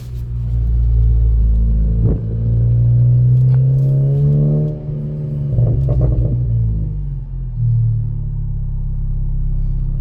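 Audi A3 8V engine with an EQT coil pack ground kit revs hard through a first gear pull, rising harmonic drone with a gear-change dip near the middle, loud and close with windows open, no talking.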